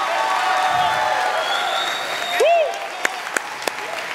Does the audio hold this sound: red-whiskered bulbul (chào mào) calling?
no